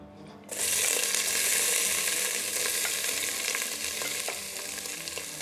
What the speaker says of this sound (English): This is in order to saute our seasonings here. So I'm going to add in the onion.